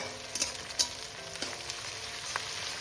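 Curry leaves dropped into hot oil for an arhar dal with vegetables, giving a crackling sizzle with a few sharp pops near the start, then a steady light frying hiss close by.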